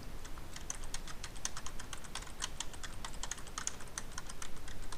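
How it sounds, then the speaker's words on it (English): Steady, close keyboard typing as notes are entered on a computer, a continuous run of quick clicky keystrokes with no talk. "I'm going to type in notes"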